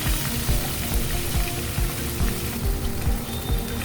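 Garlic and ginger paste fries in hot oil for a brinjal curry, giving a steady, close sizzle with rhythmic stirring scrapes sounding about every half second.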